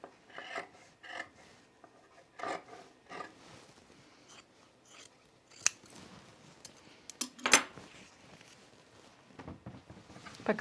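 Scissors snip along a fabric seam allowance while trimming a Mercer top, giving a scattered series of short, close cuts and rasps of varying loudness, with no talk.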